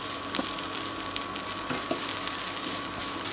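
Potato and okra stir-fry in a pan over medium heat, giving a dense, continuous close sizzle with a few soft stirring knocks and nothing else over it.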